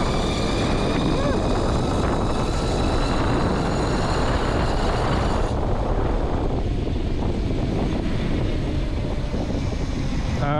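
A CYC X1 Pro Gen 2 e-bike motor runs at full throttle, giving a loud, steady whir and rush heavily mixed with wind buffeting the microphone, easing slightly partway through.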